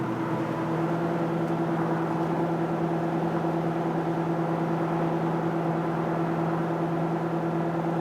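A 1967 Ford Mustang Fastback mild restomod heard from inside the cabin, a steady low engine drone with a constant tonal hum, moderate in level and free of talk.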